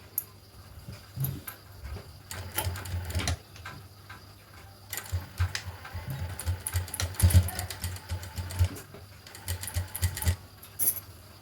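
Sewing machine stitching piping around a blouse neckline, running in irregular short bursts with pauses between runs, close and fairly loud, a steady motor hum under rapid needle clatter.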